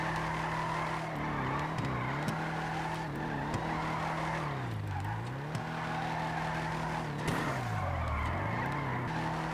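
Willard Faction car drifting in GTA 5 Online, a continuous engine drone with repeated falling and rising pitch swoops and sustained tire squeal and skidding, loud and steady throughout with no voices.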